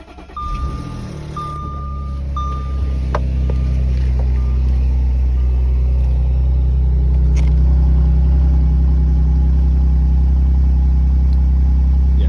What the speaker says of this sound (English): I will do a cold start for you guys.